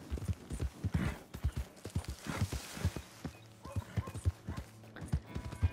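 Horse hooves clip-clopping in Red Dead Redemption 2, a steady run of close, distinct hoof thuds at walking pace, with faint game sounds behind and no talk.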